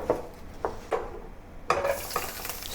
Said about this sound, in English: I'm going to remove it and then proceed to saute the garlic and onion